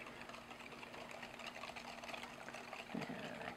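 A hand whisk beats large room-temperature eggs into brownie batter in a bowl, making steady, rapid, close clinking and swishing strokes for several seconds with no talking.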